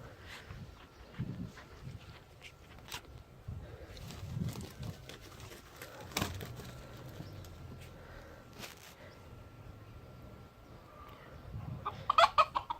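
Roosters fight over chicks with faint clucking, scuffling and wing flaps at a distance, ending in a burst of louder squawks.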